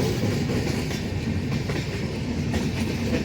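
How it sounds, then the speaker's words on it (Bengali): A train passes close by near a level-crossing gate on the way to Farakka Barrage, a loud continuous rumble with rhythmic wheel clatter over the rails, alone without talk. "এরই মাঝে একটা ট্রেন পাস হচ্ছে"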